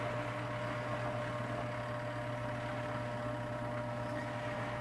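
A portable washing machine on a rinse cycle gives a low, steady hum and drone, even and unbroken, heard up close and fairly quiet.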